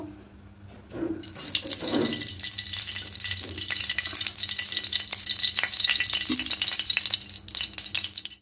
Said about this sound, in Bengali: এবার এখানে আরও কিছুটা তেল দিয়ে দেব।